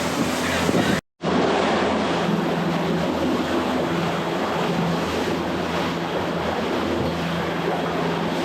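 Strong wind buffets a sailboat crossing the Gulf Stream, a constant loud roar of gusts and water with a brief dropout near the start and faint voices beneath.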